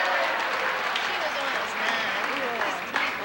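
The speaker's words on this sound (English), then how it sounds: "Round of applause over the Dragon Hound" Crowd applause at a Universal Studios show, sustained clapping with talking and voices running through it at a moderate level.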